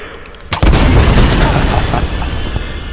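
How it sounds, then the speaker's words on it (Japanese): A loud boom from an explosion in the Xbox One game Tomb Raider hits sharply, then rumbles on with debris and roar beneath game audio. "見事な爆発。"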